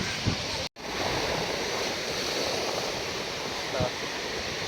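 Rough sea surges high onto the shore in a continuous loud roar of surf and wind, with a brief dropout early on.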